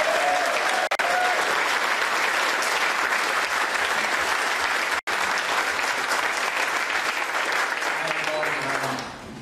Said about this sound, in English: I'd like a big, big round of applause for former unified world champion, Amir Khan.